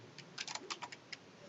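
Someone types on a computer keyboard in a quick, irregular burst of light clicks. The keys sound close and fairly quiet, with no talking.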